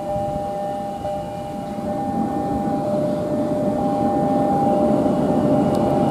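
A KRL TM 6000 electric commuter train bound for Kampung Bandan rolls past after leaving Cikarang station, a steady loud rumble and rush with a sustained high tonal whine, heard alone without talk.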